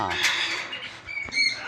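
A blue and gold macaw lets out a harsh, raspy squawk up close, followed by a couple of shorter calls, with some human talk around it.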